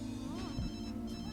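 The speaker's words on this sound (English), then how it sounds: "Phone's going off in your pocket whilst doing that." A phone in The Sims rings with a short electronic ringtone that loops steadily, close and clear, while a voice talks over it.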